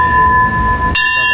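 A train at Makkasan station in Bangkok gives off a loud, steady two-note tone over a low rumble. Near the end the sound shifts abruptly to a brighter chime-like signal.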